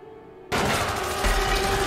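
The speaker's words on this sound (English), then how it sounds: "She has a Tommy gun." A Tommy gun fires in the Bendy game, a sudden dense burst of rapid automatic shots starting abruptly and continuing loudly.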